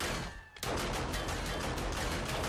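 Rapid automatic turret fire in the zombie survival game 7 Days to Die, a dense run of shots that starts abruptly after a brief lull and keeps hammering steadily at close range, loud and continuous.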